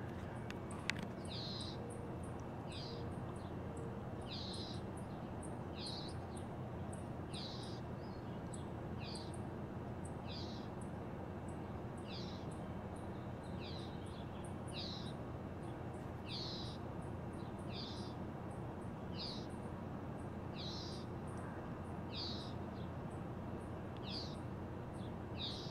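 Hawks on the Cornell University campus giving a repeated series of sharp, high calls at a steady rhythm, each answered by a brief chirp, steady over a constant low outdoor hum.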